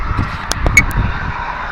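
Steady low industrial rumble and hum from a nearby chemical factory carrying across a seashore at night, continuous and fairly loud, with a few brief clicks and taps on top and no voices.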